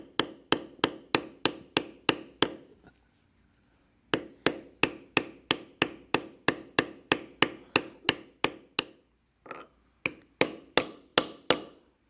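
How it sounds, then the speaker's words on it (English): A large metal beveler tool is struck repeatedly with a mallet to bevel tooled leather, producing sharp, evenly spaced close knocks in quick runs of about a dozen, separated by short pauses. "With a large beveler, I will bevel inside of the line all the way around."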